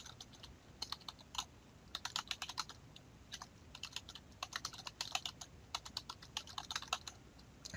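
Quiet, close computer keyboard typing in quick irregular bursts of keystrokes with brief pauses, as a URL is entered.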